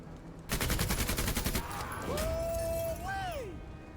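A rapid burst of machine gun fire rattles for about a second in the tactical video game MENACE, followed by whizzing, pitch-sliding tones as the shooting stops.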